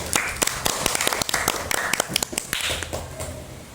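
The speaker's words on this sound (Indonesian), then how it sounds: "Kita beri aplaus untuk penampilan kelompoknya Kak Trisa." Audience applause for a group's performance at a school class session, a dense burst of many hands clapping steadily for several seconds, close and loud, with no talk over it.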